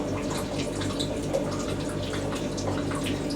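A Hotpoint WD64 Aquarius Extra washer dryer running, a steady watery swish and trickle with a low mechanical hum underneath, close and continuous.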